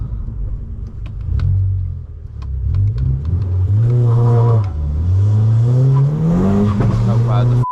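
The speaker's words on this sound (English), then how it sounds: "we'll do a cheeky 0 to the speed limit run. See what we can get out of her." A car accelerating hard from a standstill up to the speed limit, its engine note rising steadily through the gears, loud and close from inside the cabin, with a brief dip as it shifts and a voice talking over the start.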